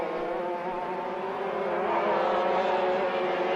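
Junior racing karts in a 1987 event buzz around the track, a continuous high engine drone that swells slightly louder as it draws nearer.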